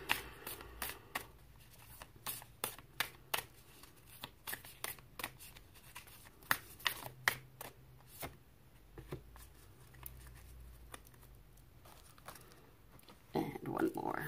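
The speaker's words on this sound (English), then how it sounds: "I have a hard enough time shuffling, some of the oracle cards because they're too big for my hands." Oversized oracle cards shuffled by hand, a rapid run of crisp, irregular riffling and slapping bursts up close, with a soft voice briefly at the end.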